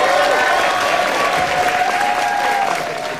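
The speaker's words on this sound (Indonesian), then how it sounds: "Ya, tepuk tangan dulu buat MNC TV." A studio audience at a comedy show claps loudly and continuously, a dense burst of applause that fades slightly toward the end.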